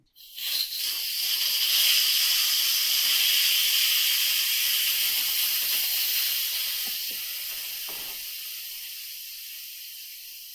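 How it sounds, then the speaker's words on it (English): A loud, continuous hiss of steam jetting from a pressure cooker vent, starting abruptly and holding steady for several seconds before easing slightly. "I'm going to release the pressure, but you want to stay away from the vent"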